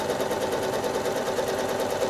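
A sewing machine runs steadily while travel stitching along an edge of a free motion quilt, a fast, even, close mechanical hum that continues without a break.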